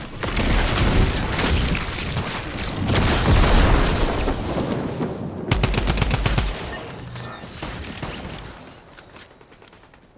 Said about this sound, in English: Watch this nuke, watch this nuke.